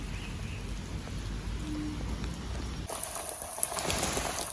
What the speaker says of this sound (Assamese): বহুত বেছি বৰষুণ দিলে।